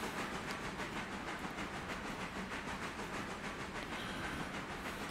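Train rolling along the rails in the video game Railroader, a steady clickety-clack rhythm with hissing under it as it gathers speed, continuous and close with no voices.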